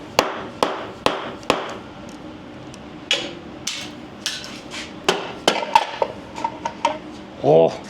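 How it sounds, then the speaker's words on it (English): A valve cover comes off a Ford big block 460 V8 in a Bronco build, bringing a string of sharp metallic taps, clanks and knocks at close range, irregularly spaced, with a brief rattle at the end and some quiet talk. "let's go ahead and pull the other valve cover off"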